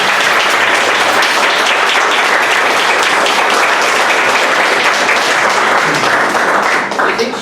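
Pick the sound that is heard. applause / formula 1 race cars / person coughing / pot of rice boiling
applause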